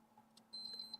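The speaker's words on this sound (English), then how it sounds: "It does beep." A PlayStation 4 console under repair gives a faint electronic power-up beep, a steady high tone sustained through the second half over a low background hum, with a short blip just before it.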